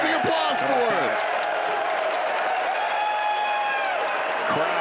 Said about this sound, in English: they're getting the applause for it